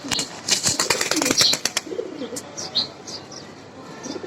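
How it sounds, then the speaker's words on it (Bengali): A pigeon coos softly in low murmurs after a burst of wing flaps and sharp clicks, with faint chirps in the background. "খুবই সুন্দর একটি কবুতর।"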